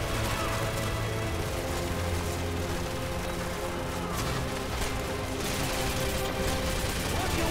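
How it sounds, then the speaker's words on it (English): Gunfire bursts from Call of Duty MW2 rattle continuously through a dense, noisy game battle, with shots and crashes blending into a steady wash while a player talks over it. "What the hell are they shooting at?"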